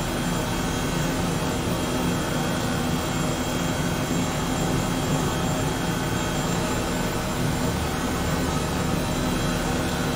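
An airplane taxiing on an airport taxiway, a steady, loud jet engine roar and whine that holds constant throughout with no talking.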